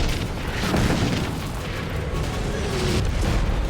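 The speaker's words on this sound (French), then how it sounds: "Ils essaient de repousser les nouveaux arrivants avec des tirs de mortier." Mortar fire in the Vietnam War sounds as dense, continuous booming and rumbling blasts, loud and overlapping, with a faint voice underneath.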